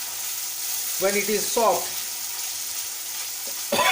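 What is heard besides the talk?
sliced onion frying in pan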